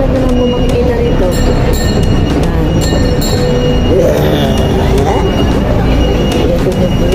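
Small ride-on train circling inside SM South Mall, a shopping mall, rolling steadily with wheel rumble and faint squeals under busy mall crowd noise, while people talk nearby throughout.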